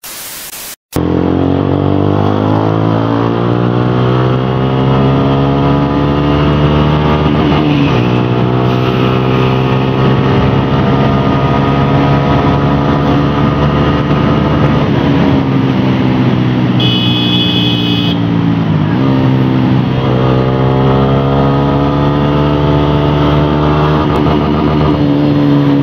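A Suzuki Gixxer SF 155 motorcycle fitted with an Akrapovic exhaust revs loudly and close up, engine pitch climbing and falling in repeated long sweeps toward the redline over a steady idle, with no talking.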